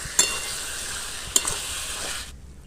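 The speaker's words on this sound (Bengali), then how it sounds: "এবার মশলা থেকে তেল ছেড়ে গেছে, মাংসটা দিয়ে দেবো, তারপর কষতে থাকবো।" Meat stirred and fried in hot spiced oil that has separated from the masala, a continuous close sizzle with two sharp clinks of a spoon against the pan, cutting off abruptly near the end.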